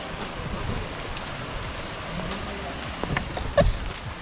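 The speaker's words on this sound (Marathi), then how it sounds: "पाऊस पण चालू आहे." Rain falls at Barkot in the Himalayan hills near Yamunotri, a soft continuous patter with scattered drips and a brief knock near the end.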